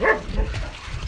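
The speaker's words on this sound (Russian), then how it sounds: "Чё там за паника у щенков Катрины?" A short burst of yappy puppy barks and yips at the very start, then quieter restless whimpering and shuffling noises from nearby.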